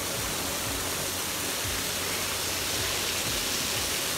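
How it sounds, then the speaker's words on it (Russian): An ice-cold waterfall at the Grotta Giusti thermal spa with a cave in Italy rushes in a steady, dense roar of falling water, constant and close throughout. "пошли под ледяной водопад"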